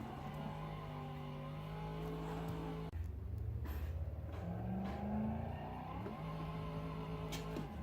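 Muscle car in a racing video game holding a brake stand against a guardrail, its engine revving hard and droning steadily with rising and falling pitch, loud and close throughout.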